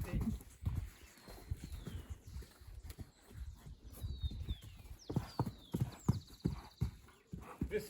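Young horses in Ecuador clip-clop their hooves in a quick, uneven rhythm close by, with a short whinny and people talking in the background.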